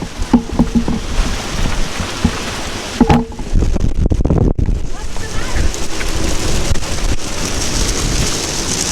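Strong wind blowing around 40 and driving rain batter the sailboat Navicula at anchor in George Town, a loud, gusting rush with bursts of heavier thumping buffets.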